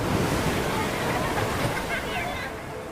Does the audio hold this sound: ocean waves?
yes